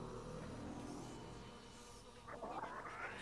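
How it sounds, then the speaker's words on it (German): Bees buzz faintly in the video game Metroid Prime, a thin, wavering drone that rises a little toward the end over a quiet ambient background. "Ich höre wieder Bienen."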